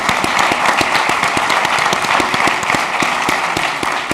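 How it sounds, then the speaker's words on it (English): Applause from a university audience after an artificial intelligence talk, brisk, crisp clapping of many hands with distinct individual claps, steady and close throughout. "Please give an applause."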